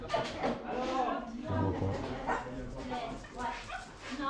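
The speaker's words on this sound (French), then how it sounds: "là c'est la SPA, donc il y avait tous les chiens adoptés" Dogs bark and whimper at an animal shelter, close and repeated yips mixed with someone talking over them.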